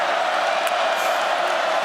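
Stadium crowd roaring steadily throughout at a Georgia Bulldogs vs Missouri Tigers college football game, a dense, continuous wall of cheering noise with no breaks.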